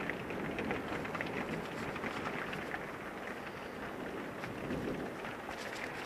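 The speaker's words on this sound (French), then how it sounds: "Ah, il y a la pluie qui tombe là." Steady rain falls through a thunderstorm in Carpentras, a dense even hiss that runs unbroken and fairly close, with faint wind.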